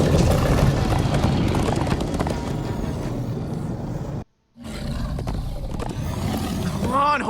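Horses gallop in Minecraft Story Mode, a rapid, close clip-clop of hooves with a brief cut to silence midway, then the hoofbeats resume, with voices and game sounds over them.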